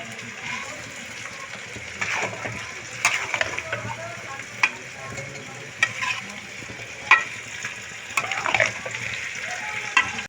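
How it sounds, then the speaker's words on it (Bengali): Bottle gourd being stirred with a cumin and dried red chilli spice paste in a pan, with a steady sizzle under repeated scraping and clinking of the spoon against the pan, close and alone. "খুব ভালো করে আমি পুরো লাউয়ের সঙ্গে মশলাটা মিশিয়ে নেব"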